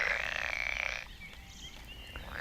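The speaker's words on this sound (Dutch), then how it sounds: "die poel zit hartstikke vol kikkers" Frogs croaking in a garden pond, a dense, loud chorus for the first second that drops to scattered, fainter calls over steady background noise.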